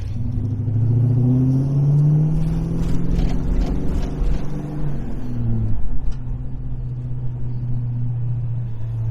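A 1973 Chevrolet Camaro RS Z28 with a modified, beyond-stock engine revs in the open, its deep, loud exhaust roar rising and falling through several throttle blips before settling into a steady, rumbling idle.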